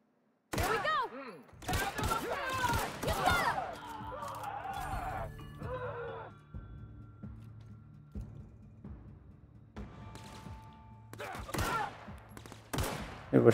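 Rapid bursts of gunfire in the video game The Outer Worlds crackle through a chaotic firefight, mixed with game voices and effects, then fade to quieter ambience before more shots return near the end.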